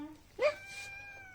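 A single close cat meow rises and falls in pitch, brief and clear, with faint voices in the background.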